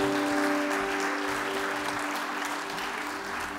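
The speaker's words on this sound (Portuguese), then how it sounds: "aplauda Jesus por isso" A church congregation applauds during a sermon: a full, steady wash of many people clapping together, loud and sustained throughout, with a low sustained tone underneath at the start.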